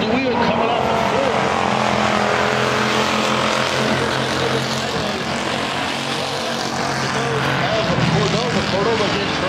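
IMCA Hobby Stock race cars at Cocopah Speedway during Winter Nationals heat races, engines roaring loud and steady as they run wheel to wheel, with an announcer talking over the continuous din.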